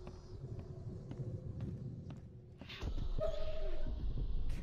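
A puppy in the video game The Sinking City gives a few soft barks and whimpers over low ambient game noise.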